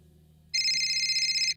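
A single short burst of telephone bell ringing, a bright buzzing trill lasting about a second over a quiet low background.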